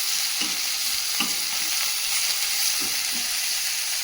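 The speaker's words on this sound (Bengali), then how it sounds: "তেলের মধ্যে একটু আদা কুচিয়ে দিয়েছি" Chopped ginger frying in hot oil for a bata fish curry makes a steady, close sizzle throughout, with a few soft stirring taps and scrapes and no talking.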